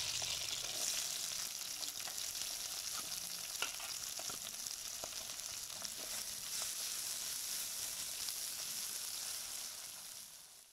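Onions frying in a pan with green chilies already added, a dense continuous sizzle close by with occasional sharp spatters and faint stirring scrapes, easing slightly at the end, no talking.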